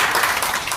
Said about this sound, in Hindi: जरा तालियां बजाकर स्वागत